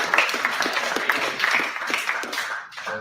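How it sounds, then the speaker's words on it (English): An audience claps steadily at a comedy show, a dense, lively patter of many hands close by that carries on for about three seconds before thinning out at the end. "Clap it up for the future being female."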